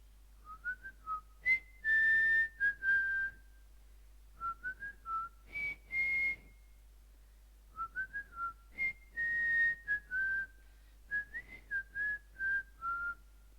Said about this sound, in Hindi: वाह सर, आप तो बहुत अच्छी सीटी बजाते हो।